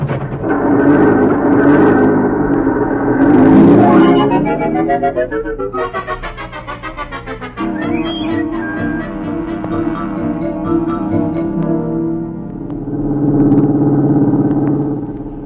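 A car pulls away as a radio drama sound effect from 1949, its engine revving up through rising gear sweeps, then settling into a steady drone before a final louder surge.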